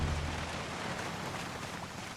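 Steady rain falling in the video game Project Zomboid over an open field, a soft, continuous hiss that stays even and low in level throughout with no breaks.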